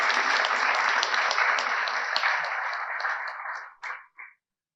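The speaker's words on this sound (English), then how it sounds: "I want a round of applause for Maria and the team for their presentation." Audience applause in a conference hall after a presentation at an IEEE Jamaica event: dense, steady clapping from a sizable crowd that holds for about three and a half seconds, then thins to a few final claps.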